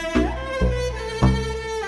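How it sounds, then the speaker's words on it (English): A song intro is treated with a reverse reverb effect. Sustained, tonal instrument notes swell in, with a few distinct attacks spread across a short, full-sounding passage. "he slid the entire production over so he could put a reverse reverb on it"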